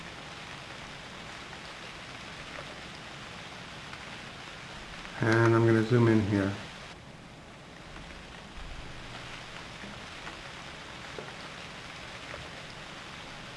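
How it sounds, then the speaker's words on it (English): Steady rain hiss falls throughout a scene in the survival game UnReal World, an even wash of noise under a brief spoken remark from a man midway. "And it started raining again."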